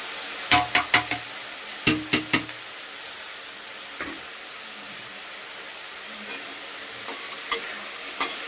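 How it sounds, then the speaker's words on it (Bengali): Chicken pieces with chopped green chili fry in a pan for chow mein, a steady close sizzle broken by sharp clusters of spatula knocks early on and then scattered single taps, with no voices. "এটা একটু ভালো করে ভাজতে হবে, চিকেনটাকে একটু ভালো করে ভাজতে হবে"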